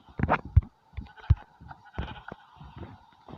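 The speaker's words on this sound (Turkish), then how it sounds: "Dedim ve anında koyun çıktı." Sheep bleating in the Minecraft video game, several short, close, nasal bleats in quick succession with brief gaps between them, no speech.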